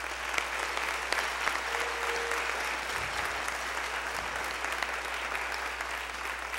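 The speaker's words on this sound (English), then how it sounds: "So can we give her her own special round of applause?" Applause from an audience at a middle school spring band concert, a steady broadband clatter of many hands clapping that holds evenly throughout.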